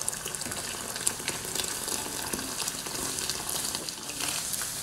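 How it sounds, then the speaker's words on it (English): Boiling water from a kettle is poured into a medium-sized pot, giving a continuous splashing gush with a sizzling hiss, close and steady for several seconds, no speech. "Fill up a sort of medium-sized pot with boiling water."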